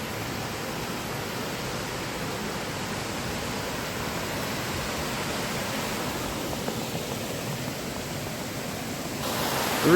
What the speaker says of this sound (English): very impressive stretch of river there, and quite an impressive weir, I think you'll agree